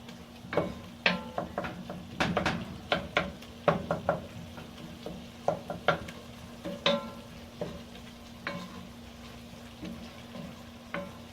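Meat seasoned with salt, black pepper and seven spices frying in ghee, a soft steady sizzle under irregular knocks and scrapes of a utensil stirring in the pot, close by.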